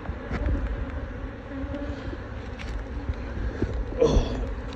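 Honeybees swarm over a comb during a January beehive inspection, a steady close droning hum running throughout, with a brief louder rise near the end.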